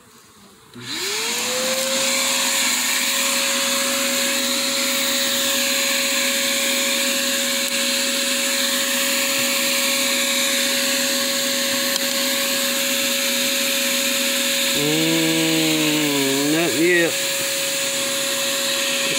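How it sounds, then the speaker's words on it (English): A vacuum motor switches on and runs with a steady, loud whine and drone, its pitch briefly wavering near the end. "I'm crank his vacuum back up for a second"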